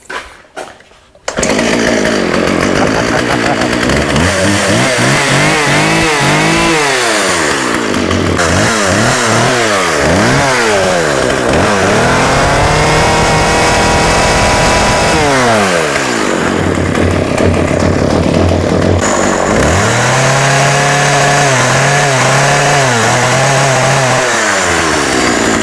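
A Husqvarna 36 chainsaw, running without choke after its blocked carburetor was cleared, starts up and runs loud and close, with repeated revving rising and falling through long stretches of throttle.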